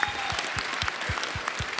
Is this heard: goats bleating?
no